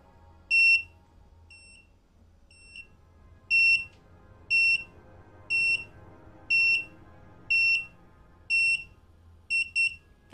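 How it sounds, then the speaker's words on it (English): A Wylera hair curler gives short, clear high-pitched beeps at a steady rhythm, about one per second, with a quick double beep at the end, over faint background hum. "That double beep means beeps have stopped,"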